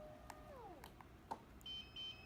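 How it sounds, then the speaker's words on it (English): Two short, high electronic beeps close together as a Lucid L300 adjustable bed base remote pairs, following a couple of faint clicks and a soft warbling tone. "and you heard it. There's the 2 beeps."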